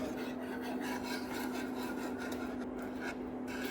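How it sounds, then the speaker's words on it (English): A whisk scrapes steadily around a pan of white sauce over medium heat, a continuous close rasping stir with a low steady hum beneath and no talk. "a medium heat, and keep on whisking it"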